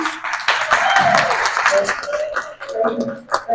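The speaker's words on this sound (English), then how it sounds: "We'll give him applause." Applause from a church congregation at a Sunday service, honoring the vice speaker of the National Medical Association; loud clapping mixed with voices and a little laughter, dipping briefly near the end before picking back up.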